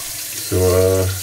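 Hot water runs from a sink tap as a razor is rinsed under it, a close, loud gush that starts suddenly midway and flows steadily to the end.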